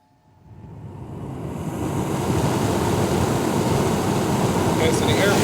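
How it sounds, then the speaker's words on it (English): Fans in a Venturi airflow experiment spinning up from silence, a broad rushing whoosh that builds over a couple of seconds and then holds as a steady, loud roar of moving air. "run the fans now, and we'll see what happens"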